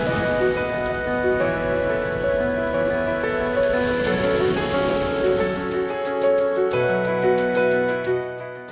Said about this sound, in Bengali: এখন বৃষ্টিটা একটু কমেছে